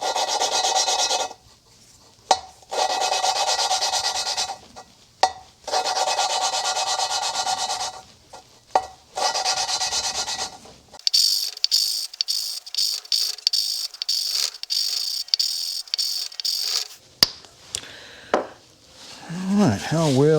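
Valves are lapped into the seats of a Cadillac 472 cylinder head, giving a steady gritty rubbing that runs in long strokes and then turns to rapid clattering taps near the end.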